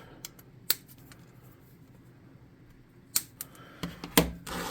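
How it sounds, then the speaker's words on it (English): Scissors snip off craft material while making tabletop scatter terrain: several crisp, close snips spaced apart, then a quicker cluster of cuts at the end. "Okay, and we'll snip that off."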